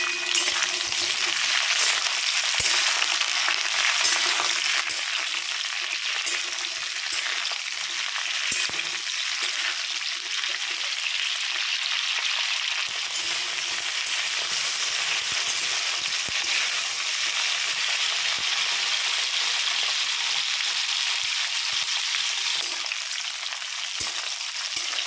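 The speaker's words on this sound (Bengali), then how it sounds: "এরপর পটলগুলো আমি ভালো করে লাল লাল করে ভেজে নেব।" Pointed gourd (potol) fries in hot mustard oil in a wok, giving a loud, steady, dense sizzle that runs unbroken throughout with no voices over it.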